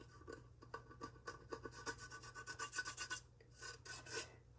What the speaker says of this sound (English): hit this with sandpaper.